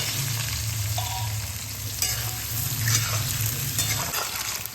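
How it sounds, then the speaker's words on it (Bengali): Potato pieces frying together with chopped onion in oil in a pan, a continuous close sizzle with occasional spatula stirs and a low steady hum underneath. "এই পেঁয়াজের সঙ্গে আমি আলুটাকে ভেজে দেবো"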